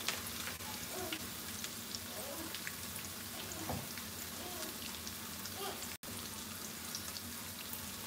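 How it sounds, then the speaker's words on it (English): Pork chops fry in a pan with a steady, dense sizzle and crackle throughout, faint and continuous, with a brief voice partway through. "That don't sound like frying slow to me."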